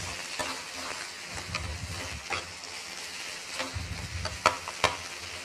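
Food sizzles steadily on a plate or pan in a Turkmen-style home kitchen, a constant frying hiss with a few sharper pops and clinks near the end.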